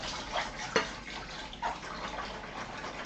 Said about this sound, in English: Just rinsing it all off now.